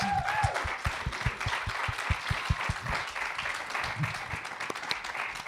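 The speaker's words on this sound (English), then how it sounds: "Everyone give him a round of applause." Festival crowd at a live podcast recording at 2000trees applauds a quiz winner: steady, moderately distant clapping from many hands, with a low rhythmic thump pulsing beneath it for the first few seconds.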